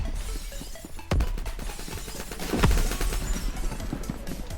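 Uzi submachine guns firing in a first-person shooter game match, kill confirmed mode, with a dense rapid stream of sharp cracks and a couple of louder bursts near the start and middle.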